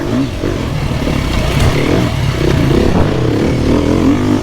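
A Beta 250 RR or 350 RR dirt bike engine revs steadily and loudly up close, with rising and falling pitch and some mechanical clatter, no voices.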